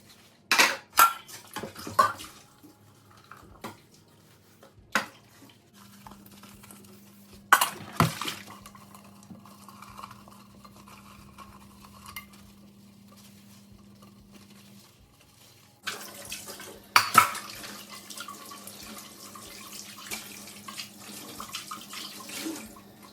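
Cooking pots, dishes and cutlery being washed in a kitchen sink after a home-cooked Indian meal: scattered metallic clanks and scrapes, with a steady tap stream running through the middle and the end, fairly close.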